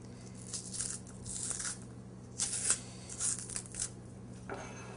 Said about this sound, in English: But really just making the slits makes it really easy to peel.